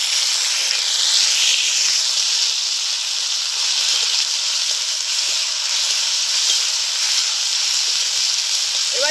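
Ground spice paste sizzles steadily in hot oil for Kanika Bhog, a sweet rice dish, with a loud, continuous frying hiss and small crackles throughout and no voices.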